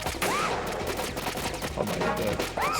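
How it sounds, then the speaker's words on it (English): Gunfire in Metal Gear Solid 2, a dense run of rapid shots and bursts filling the whole stretch at steady loudness, with faint game sounds woven through. "Stop shooting the kid!"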